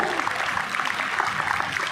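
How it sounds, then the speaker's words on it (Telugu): An audience claps for a group of children at a devotional gathering, a steady, moderately loud patter of many hands without any voices. "అందరూ ఈ పిల్లలందరికీ గట్టిగా చప్పట్లు కొట్టాల్సిందిగా కోరుకుంటున్నారు"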